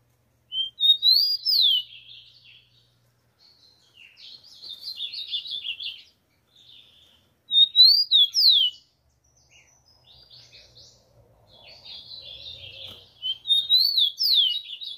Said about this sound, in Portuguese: o passarinho tá com muita ordem, cantando muito